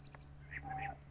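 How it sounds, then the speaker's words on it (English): Birds sing outdoors on a calm day, a few faint, brief chirps and short whistled calls against a quiet low background hum. "you just hear the birds"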